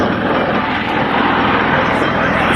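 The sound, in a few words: Bell tiltrotor aircraft flying at an airshow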